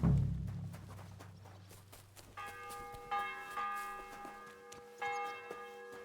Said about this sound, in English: The bell's ringing for hands the 5th time.